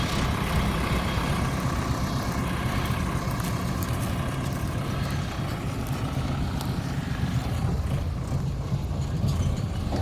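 A tractor engine idles steadily and continuously at close range, a constant low rumble that holds its level throughout.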